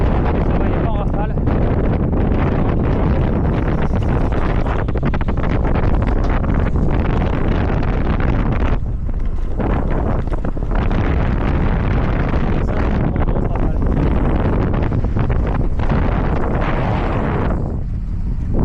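Wind roars over the microphone during a bikepacking road ride, a loud, steady broadband buffeting that runs almost the whole time with only brief dips.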